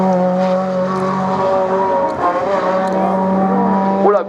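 A Renault Clio Cup race car climbs a dirt hill-climb course at Hébécrevon, its engine howling loud and near with a steady high whine that sweeps sharply in pitch as it passes at the end.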